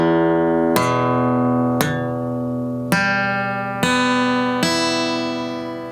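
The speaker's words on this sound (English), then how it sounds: "we're going to play each note individually. So let's try it. So here we go. Starting from the 6th string, we should hear every note." Guitar chord picked one string at a time starting from the low sixth string, five distinct plucked notes ringing and overlapping in a steady sequence, close and sustained, no speech.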